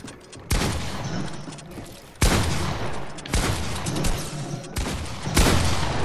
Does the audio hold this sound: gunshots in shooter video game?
yes